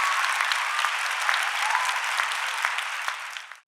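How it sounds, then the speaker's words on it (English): An audience at a women's leadership conference applauds a panel, a steady, dense round of clapping from a large crowd that holds evenly and then cuts off. "Let's give our panel a round of applause."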